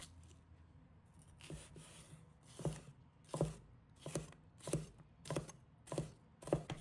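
A knife chopping red chili into small pieces on a cutting board, about nine soft, evenly spaced thuds coming faster toward the end, quiet and close, with no one speaking.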